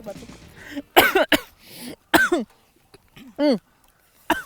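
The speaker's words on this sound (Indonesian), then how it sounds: "ini aromanya udah berasa pedesnya sampai batuk-batuk" Several harsh coughs in bursts, close and loud, set off by the aroma of spicy chili, with short pauses and some throat clearing between them.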